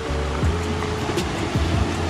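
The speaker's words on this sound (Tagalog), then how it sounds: "ang laki ng alon" Big sea waves break and wash along a coastal road shoreline at Times Beach in Davao City, a steady loud surge of surf with a couple of heavier crashes and no speech.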